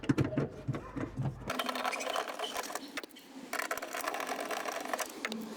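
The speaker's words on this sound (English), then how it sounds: "You need a Torx 15 and unscrew these two bolts." A screwdriver undoes the Torx 15 bolts on a Dacia Sandero MK2 brake light, giving close, dense clicking and ratcheting mechanical sounds in uneven bursts with brief pauses.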